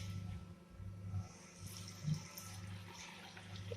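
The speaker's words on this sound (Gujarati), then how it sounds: "ઉમેરીશું ચોખ્ખું પાણી." Clean water poured into washed toor dal in a pot, a soft, faint splashing and trickling stream that runs steadily with a few small surges.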